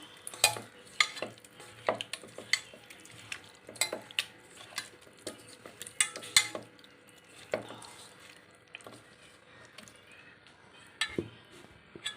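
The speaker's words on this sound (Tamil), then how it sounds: "இப்போ நாம் இதை நல்லா கிளறி மூடி வைக்க போகிறோம்" A spiced fish kebab mixture with lemon juice being stirred in a pan, with frequent clattering scrapes and clicks of a utensil against the pan and a faint sizzle underneath.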